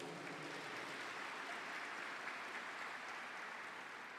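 Church congress audience applauding, a soft continuous wash of clapping heard from some distance, steady and faint with no voices standing out.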